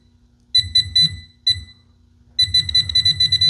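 Fisher F-Pulse pin-pointer sounding over a bullet: loud, close electronic beeps in short rhythmic bursts, a pause, then a faster steady run of pulses, with a low hum underneath.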